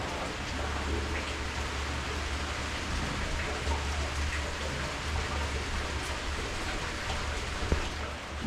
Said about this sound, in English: It's just a chill evening with a chill rain.